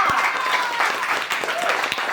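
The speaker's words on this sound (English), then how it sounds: "Round of applause for Lydia Gerard" A brief burst of audience clapping for Lydia Gerard at a group activity, a short, lively patter of hands with a few distinct claps standing out.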